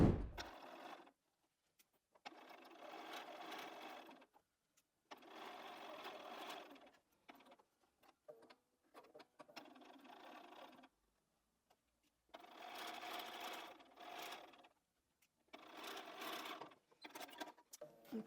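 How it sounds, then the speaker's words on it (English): Sewing machine stitching the long edge seams of a quilt block in several separate bursts, each lasting a few seconds with short pauses between, close and steady with no talking. "So we're going to take those to the machine and sew those two long edges."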